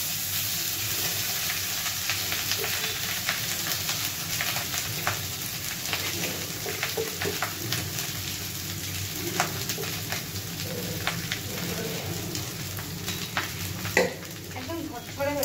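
Rice sizzles steadily as it is fried and stirred in a pan, with a constant crackling hiss broken by scraping strokes of the spoon, close up and alone for most of the stretch.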